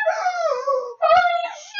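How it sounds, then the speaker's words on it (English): Dogs snarling, howling and yelping in a fight at close range, with loud tonal cries broken by a short pause before more whining howls. "Your dogs are fighting. Our dogs are fighting."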